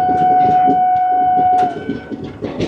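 The Paharia Express clatters through Kumedpur Junction on a curve. A long, high, steady whine carries over the rumbling rail noise, then breaks off into uneven clanks and rattles.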